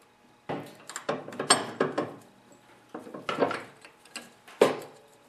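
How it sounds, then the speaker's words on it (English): A flat screwdriver pries an E-clip off a snowblower drive axle, making a run of close, sharp metallic clicks and scrapes in irregular clusters with quiet gaps between them. "I'm going to grab a flat screwdriver and just pry it out"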